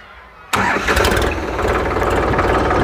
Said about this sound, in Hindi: क्या आवाज़ निकालता है ट्रैक्टर।